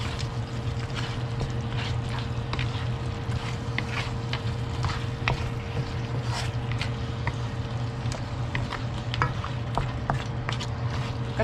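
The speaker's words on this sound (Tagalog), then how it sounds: "Haluin lamang po natin ito." Goat kaldereta is stirred in a pan, a steady low sizzle broken by frequent scraping and clinking utensil strokes, close and fairly quiet, with no voices.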